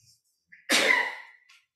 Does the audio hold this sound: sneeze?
yes